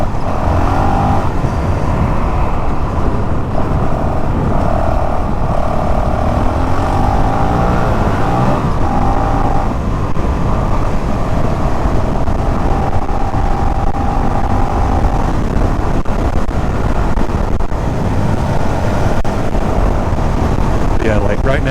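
A Honda CRF450RL motorcycle engine holds high RPM at about 60 mph, a loud steady drone with constant wind rush.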